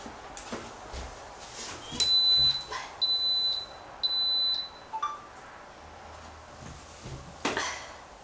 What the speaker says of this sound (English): So the Instant Pot timer just went off right now